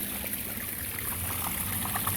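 Water trickling and dribbling from a homemade power sluice with a brick set on top, a steady soft wash of flow leaking throughout, close by and moderately quiet.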